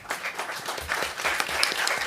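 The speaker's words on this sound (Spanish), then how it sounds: "un aplauso para Martín" Crowd applause at a conference panel, a steady wash of many hands clapping at moderate volume throughout, with no one speaking.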